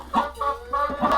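Farm hens clucking near a henhouse, a few close, fairly loud nasal clucks in a quick irregular run over about a second, with no voices.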